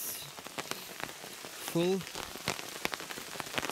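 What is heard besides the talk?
rain falling, rainwater being collected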